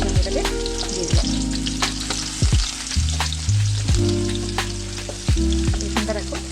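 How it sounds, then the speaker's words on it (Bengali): Chopped garlic frying in hot oil for a spicy lote (Bombay duck) fish curry, a steady close sizzle with repeated stirring scrapes and clinks of a spatula in the pan, no talking. "এবারে আমি রসুন কুচি দিলাম।"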